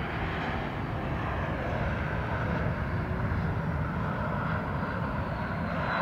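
An airliner touches down on runway 17 left at Austin Bergstrom, its engines giving a loud, continuous broadband roar that holds steady throughout.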